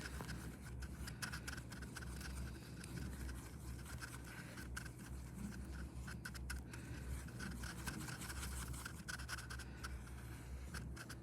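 A brush mixes acrylic paint on a palette, producing a continuous close scratchy scrubbing with quick repeated strokes over eleven seconds, steady in loudness, with nobody speaking.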